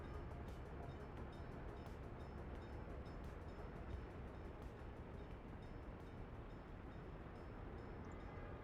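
A train rolling along in a railway-building video game, a faint, steady low rumble with regular clicking beats running the whole time and no speech.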